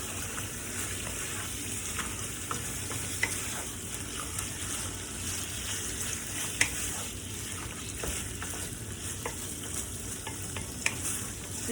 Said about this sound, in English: And we're going to stir it around.